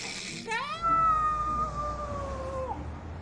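A voice mimics a noisy radiator heating up beneath a window, producing a rising, wailing whine that holds a long sustained tone before dropping off, loud and close.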